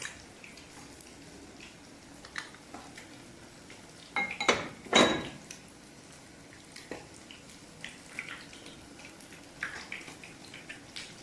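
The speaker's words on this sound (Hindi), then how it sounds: "अभी मैं इसमें डालूँगी घी और ये इसी में मैरिनेट होगा।" Ghee goes into a cooking pot for a gajrela recipe, with a quiet kitchen backdrop broken by a cluster of metallic clinks and a soft liquid pour near the middle, then scattered faint taps.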